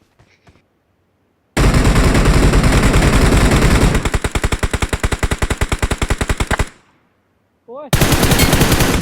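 Loud, close bursts of automatic gunfire in a prank setting: a sustained roaring volley, then a rapid string of evenly spaced shots, a short pause and another burst, with a brief pained exclamation.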